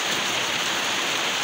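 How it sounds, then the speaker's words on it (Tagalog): Heavy rain pours steadily on a morning, a dense, continuous hiss filling the air with no breaks or voices. "kasi medyo malakas-lakas ang ulan"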